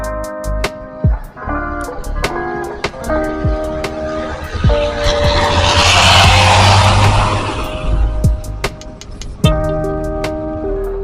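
A large intercity bus passes on a road in Aceh, its engine and tire noise swelling to a broad roar mid-clip and fading, with horn-like tones and other traffic around.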